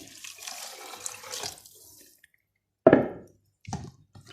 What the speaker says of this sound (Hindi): ये देखिए, इसमें पानी डालेंगे